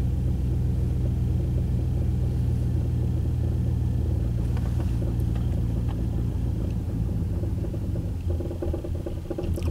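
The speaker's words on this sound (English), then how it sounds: "That almost seems like a misfire to me. It's like one cylinder's not firing right." A house air compressor's engine rumbles steadily up close and runs erratically, misfiring as one cylinder seems not to fire, with a low drone that stays loud throughout and shifts near the end.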